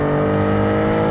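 A Nissan 370Z NISMO's VQ V6 revs loudly and steadily while driving, a dense, sustained engine drone close to the microphone with no voices.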